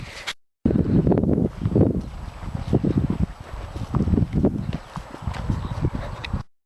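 A pony's hooves clip-clop steadily at a walk, close by, as it heads out onto a trail with a handler, with light wind buffeting the microphone.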